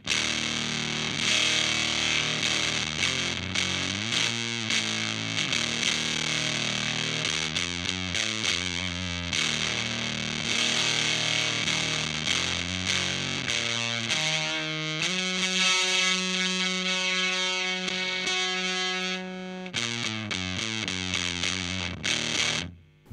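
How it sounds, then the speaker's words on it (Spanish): Electric guitar on the neck pickup through an Earthquaker Devices Erupter fuzz, heavy and thick with distortion, moving through choppy riffs and ringing held chords before stopping abruptly. "ahora la cápsula del cuello"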